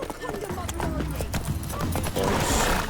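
Hooves of Roach, a horse in The Witcher 3, clop in a quick rhythm under a voice speaking, with game ambience behind and a brief rustling burst near the end.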